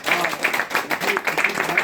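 A crowd at a federation celebration claps loudly for an honoree, a brief burst of dense, continuous clapping mixed with voices.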